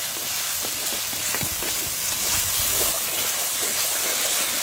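Green chillies fry in hot oil in a pan, giving a loud, steady sizzling hiss with occasional small pops, close and continuous.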